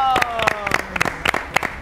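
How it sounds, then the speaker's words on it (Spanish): An audience in a room claps for the Novex team in scattered, uneven bursts after a speaker's voice fades out at the start. "quiero que les brindemos un aplauso a la gente de Novex"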